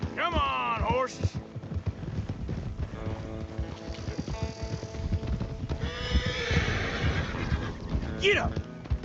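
Horses in Red Dead Redemption 2 whinny loudly near the start and again near the end, with a steady clatter of hooves and a game soundtrack running between the calls.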